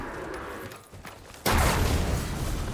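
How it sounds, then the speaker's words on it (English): An explosion in the video game Horizon Forbidden West breaks out suddenly as a loud, broad boom and rumble after a quieter stretch of game ambience, then sustains as a roaring wash. "Yeah, I mean, it's an explosion."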